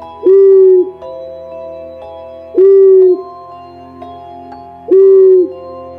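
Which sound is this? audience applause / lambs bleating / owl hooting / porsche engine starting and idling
owl hooting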